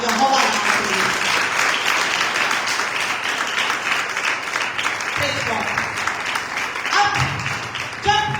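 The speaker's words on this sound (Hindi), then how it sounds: "आइए जोरदार तालियां बजाएंगे यहोवा नाम के लिए।" Loud applause from a church congregation during a sermon, dense sustained clapping filling the space for several seconds, with some voices and brief tones mixed in beneath it.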